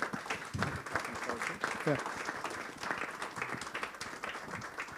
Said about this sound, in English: A big applause to them, please.